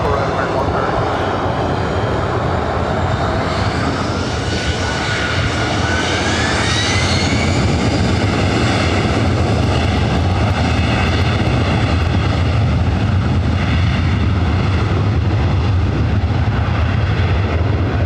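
Airliner taking off from runway 24 right at LAX, a loud sustained jet engine roar with rising turbine whine filling the whole stretch, steady and close, with faint radio-style voices underneath.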